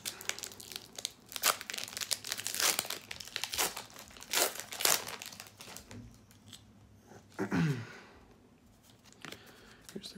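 Foil Pokémon Unbroken Bonds booster packs crinkle and tear open in a series of sharp, close crackling bursts, with busy rustling early on, a quieter stretch, then one longer rip near the end; no voices.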